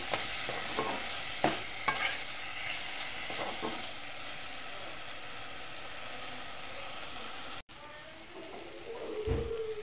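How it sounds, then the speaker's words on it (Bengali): Potatoes get stirred into spices in a pan, with a few sharp scraping strokes early on over a soft, steady sizzle, then a brief dropout and a low clatter near the end. "আলুগুলি দিয়ে দিলাম, দিয়ে ভালোভাবে মশলার সাথে মিশিয়ে নেব।"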